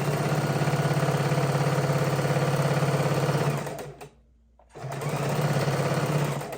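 A sewing machine stitches a baby quilt border on a card table with a fast, even motor whir, pausing briefly near the end before running again, with no talking.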